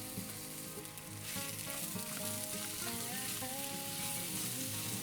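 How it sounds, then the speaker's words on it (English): Onions frying in melted oil in a pan on a stovetop over medium-high heat, a dense, continuous loud sizzle that swells slightly after the first second, with no talking. "Gonna use this to cook the onions."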